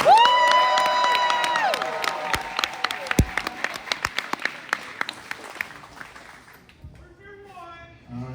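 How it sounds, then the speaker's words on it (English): Applause from a podcast live-show crowd in Watertown, NY, opening loud and then thinning to scattered claps and cheers, with voices and chatter throughout. "Give yourself a good round of applause."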